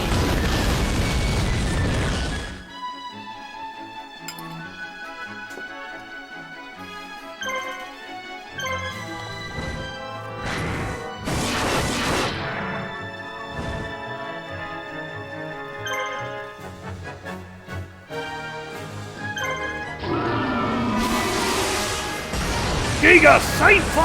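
Giga Saint Fire attack in Yu-Gi-Oh! The Falsebound Kingdom erupts as loud booming, crackling bursts at the start and end, with ringing chime-like tones and sharp hits between them over game sound.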